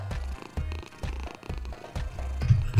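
A cat purrs in a masturbation simulator video game, a low rhythmic rumble pulsing in steady repeated waves of breaths, fairly loud and close with no talking.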